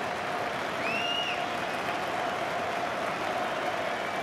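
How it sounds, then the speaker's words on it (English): A football crowd at a League One match between Leeds and Millwall applauds a substituted player, Andy Robinson, in a steady, distant wash of clapping, with a faint whistle near the start. "And the crowd's applause reflects that."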